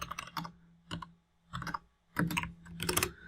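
Typing on a computer keyboard while entering a JMeter command, with several short bursts of rapid key clicks separated by brief pauses, close and fairly quiet, with no talking.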